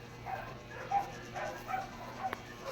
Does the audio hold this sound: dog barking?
yes